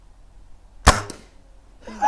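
A Hatsan Striker .25 air rifle fires a pellet, making one sharp close crack followed by a brief metallic ring and a faint mechanical sound at the end.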